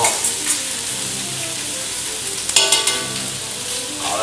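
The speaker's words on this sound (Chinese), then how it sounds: "好，来煎我们的牛肉这边。" Beef sears in a pot with a dense, continuous hiss of hot fat, close and loud, with a short burst of sharper crackling and a few clinks of a utensil partway through.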